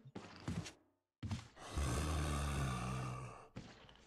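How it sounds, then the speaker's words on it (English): Zombie groaning in the Resident Evil HD video game, a couple of short guttural grunts, then a gap, then a longer sustained low moan and a final brief groan. "I think I hear a zombie."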